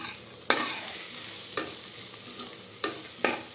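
Ginger and garlic stir-frying in a pan for Telangana-style bagara rice, a steady sizzle broken by four sharp scraping strokes of the spatula, moderately close and with no talk.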